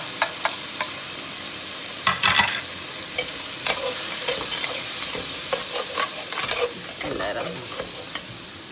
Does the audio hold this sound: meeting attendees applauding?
no